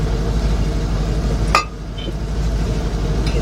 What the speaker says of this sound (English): We're gonna push our rotor in, bring our caliper bracket down.